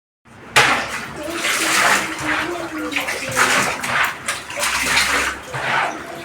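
Steady rush of water from a kitchen tap, splashing continuously into a container nearby, with faint background voices.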